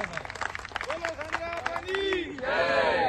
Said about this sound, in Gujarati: તાળીઓથી વધાવો ભાઈ